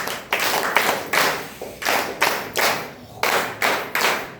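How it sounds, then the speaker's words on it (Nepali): An audience at a gathering claps in loose bursts, a few seconds of hand claps that start, fade, and restart in waves, moderately close with no voices. "एकपल्ट उहाँलाई ताली दिनुहोस्"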